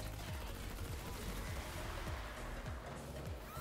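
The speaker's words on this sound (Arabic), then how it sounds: "بدي شوت 61 طلقة" Silenced Specter gun in Fortnite zombie mode fires a rapid, steady stream of muffled shots, continuous and even through the whole stretch, over game background noise.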